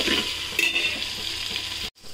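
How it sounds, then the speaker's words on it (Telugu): Ginger garlic paste frying with onion in a pan for chicken pulao gives a steady, close sizzle with soft stirring, then cuts out abruptly near the end. "అల్లం వెల్లుల్లి పేస్ట్ కొంచెం ఫ్రై అవ్వాలి."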